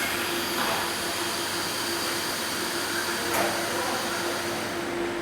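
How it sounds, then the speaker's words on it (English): Compressed air is switched on to an industrial machine, giving a steady, even hiss with a constant low hum throughout and no voices. "you'll go ahead and turn on the air to the machine"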